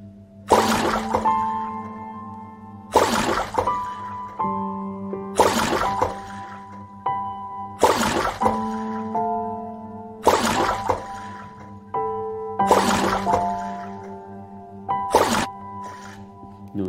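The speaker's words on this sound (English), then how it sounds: "Notice the sea sound effects to accompany the user and provide a more immersive experience" Sea ambience effects in a painting app play as watery, splashing bursts that repeat about every two seconds, each with a bright ringing tonal tail, steady and fairly loud.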